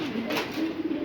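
A single Australian pigeon gives a short, soft coo close by in a loft, with faint background hiss and no talking.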